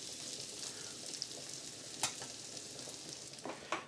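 Savoy cabbage sizzling and frying in a Dutch oven, a steady close crackle with occasional stirring clatters and scrapes over it, no voices.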